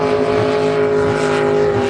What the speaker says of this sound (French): Alors que les bateaux à fond plat sont survolés par un hélicoptère